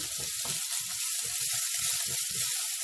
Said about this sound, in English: Just saute a little bit, because you don't want to saute too long